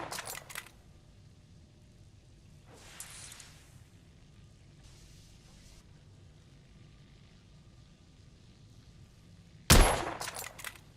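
Test-firing of a weapon in The Order: 1886, heard as one sharp, loud shot near the end followed by a brief ringing tail, with a few softer mechanical bursts and clicks earlier over quiet room tone.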